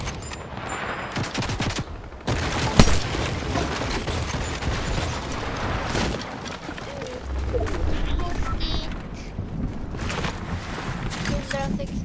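Rapid gunfire bursts and heavy impacts from a Fortnite match crackle continuously, with automatic fire and single shots layered over mechanical game effects.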